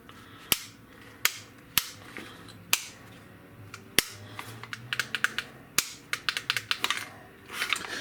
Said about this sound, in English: I actually need to pull the trigger on this one.